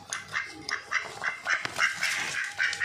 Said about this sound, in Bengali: দেখো 3টে হাঁস